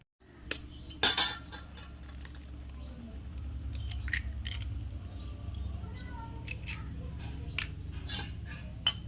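An egg is cracked in a home kitchen while making a lote fish chop: a few sharp taps and clinks near the start, then quiet handling and faint rustling.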